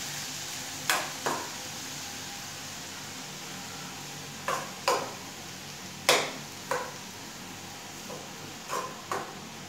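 A spoon stirs garlic and other ingredients in a pan, giving about nine separate scraping clacks in loose pairs over a faint background hiss, with no talking.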